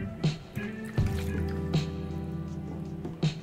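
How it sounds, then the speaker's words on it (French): Water is poured into a bowl of pizza dough mix, with a few soft drips and wet squishy splashes spaced out over several seconds, close and fairly quiet. "On verse ensuite le reste de l'eau"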